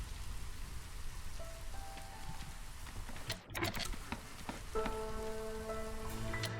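Light drizzle pattering steadily in the game Against the Storm, a soft continuous rain hiss under scattered game tones and chimes, with no voices.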